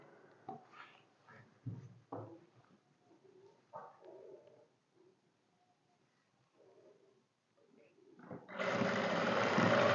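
Soft pigeon coos come in scattered bursts, then a sewing machine stitching a shirt starts up near the end and runs as a loud, steady whirr.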